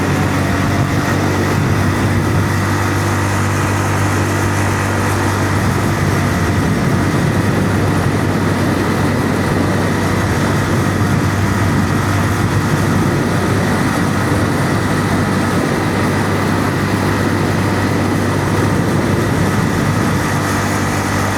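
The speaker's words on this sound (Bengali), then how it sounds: "এখন আমি বাইক নিয়ে পদ্মা সেতুর উপরে।" A motorcycle cruises steadily across the Padma Bridge, its engine drone mixing with constant heavy wind rush for the whole ride, loud and unbroken, with no voices.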